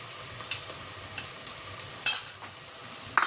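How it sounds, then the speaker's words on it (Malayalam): Chicken sautéing in a pan with onion, ginger and garlic gives a steady, quiet sizzle, punctuated by occasional scraping clicks of a spoon stirring, with a couple of louder clatters near the middle and end. "എന്നിട്ട് ഇതും നന്നായിട്ട് വഴറ്റും"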